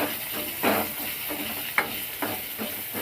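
Potatoes for corn dosa fry in a pan under a continuous hiss, with several close scraping stirs at irregular intervals and one brief sharp knock.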